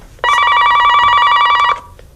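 A telephone bell rings once in a single sustained burst of about a second and a half, loud and close, starting and stopping abruptly against a quiet room.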